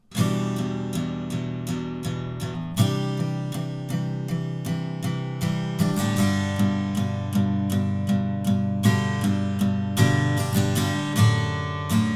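An acoustic guitar strums the chords of a song in a steady, even rhythm, clear and close, with no voices.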